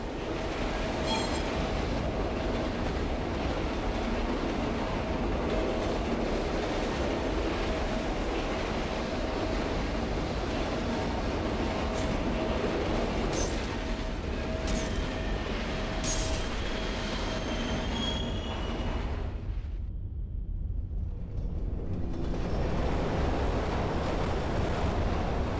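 A train moves in the Condemned: Criminal Origins game, a continuous loud rumbling roar with occasional squeals and clanks, briefly dropping away near the end before resuming.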